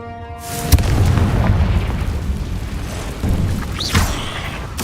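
A Confringo blasting spell explodes in the game Hogwarts Legacy with one heavy, booming detonation, followed by a rumbling roar that trails off, then a few smaller bursts and crackles inside a cave.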